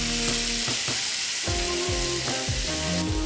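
Tomatoes sizzle and fry in a hot pan, a loud, continuous crackling hiss with occasional clunks of the pan or utensils, heard close up.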